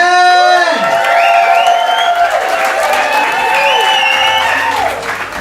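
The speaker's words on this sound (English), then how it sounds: "Ladies and gentlemen, start your round of applause." A comedy club crowd applauds and cheers loudly, with whoops and shouted voices rising and swooping over continuous clapping, easing slightly at the end.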